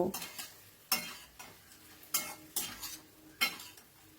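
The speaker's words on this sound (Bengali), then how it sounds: "এবার অনবরত নাড়াচাড়া করে মশলাটাকে ভালো মতো কষিয়ে নেবো" Spice paste with bottle gourd and fried potato being stirred and fried in a pan, a soft sizzle broken by regular scraping strokes of a metal spoon about once every second, close and alone.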